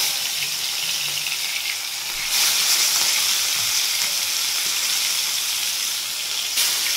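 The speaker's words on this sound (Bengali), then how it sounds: "মাছটা আগে ভেজে নিই" Koi fish frying in hot oil in a pan, a steady, bright sizzle that swells louder partway through and carries on close and unbroken, with no talking.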